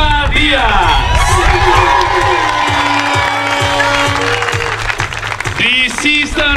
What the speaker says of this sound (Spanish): um forte aplauso, Elisa Elsie!